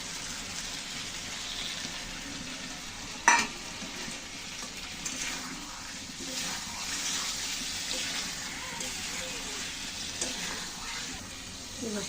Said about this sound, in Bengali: আমি এখন এই ডিম আর আলুগুলো দিয়ে দেবো একসাথে, দিয়ে একটু কষিয়ে